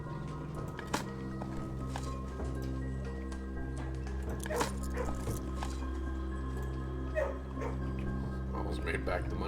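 Dogs in the video game Blue Prince yip, bark softly and whimper in short scattered bursts beneath a steady droning game soundtrack, with a person talking over them.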